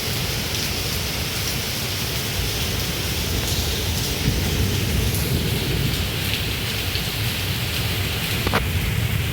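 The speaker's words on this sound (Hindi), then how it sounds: "इतनी बारिश, ओलेबाजी हो गई है।" Heavy rain with hail comes down in a loud, steady, dense roar during a storm in Uttarakhand, with no break and no voices.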